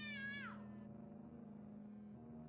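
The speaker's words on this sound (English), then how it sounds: "The cat is blocking my way." A cat meows once in a creepy flash video game, a short whining call that bends downward, set over a steady low electronic hum and drone that carries on after it fades.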